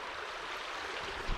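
Creek water flows in a steady, soft wash with no talking, and a couple of faint low thumps come right at the end.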